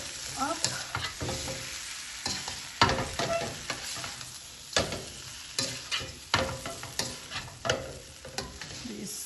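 A pan of potatoes and cauliflower with mashed garlic being stirred, giving a steady sizzle and frying crackle under repeated scraping and knocking of a spoon against the pan, close and continuous.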